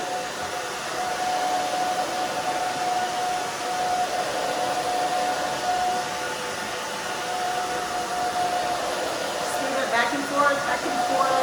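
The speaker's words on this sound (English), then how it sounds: "I love my Babyliss Pro blow dryer." A Babyliss Pro blow dryer runs continuously while drying a short pixie cut, giving a loud, steady whooshing roar with a faint whine that lasts the whole time and shifts slightly as it moves.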